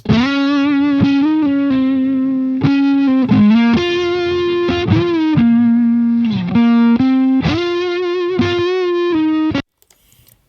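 Distorted electric guitar recorded with a Shure SM57 dynamic microphone plays a sustained melodic line, notes held and bending, loud and close, ending abruptly into near silence.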